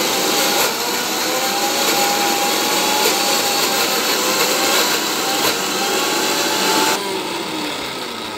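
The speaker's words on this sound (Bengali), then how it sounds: "এরপর মিক্সিতে সেদ্ধ করা শিমটা দিয়ে দিয়েছি" Mixer grinder whirring steadily as it blends boiled flat beans with coriander leaves, onion and garlic, a loud continuous motor drone that drops slightly in pitch near the end.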